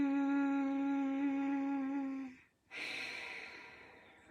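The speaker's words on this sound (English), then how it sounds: "And this is the Ujjayi breath, like this" Ujjayi breathing in a yoga class: a long, steady breath through the nostrils with a humming, constricted throat tone, a brief pause, then a second breathy airflow, close and clear with no talking.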